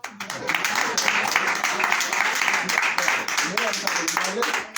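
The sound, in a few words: audience applause for Carol at a book presentation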